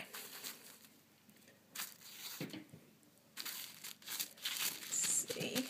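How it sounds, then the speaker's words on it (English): Tissue paper crinkles and rustles in bursts as a mailed parcel is unwrapped, close and moderately loud, with quiet pauses between handfuls of crumpling. "Just got it wrapped up nice in a lot of tissue paper."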